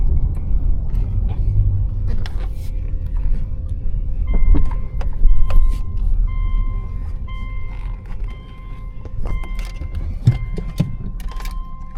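A repaired, previously wrecked car is driven into a driveway: low engine rumble with mechanical clunks, a brief whine and some rattling, fairly close and fluctuating.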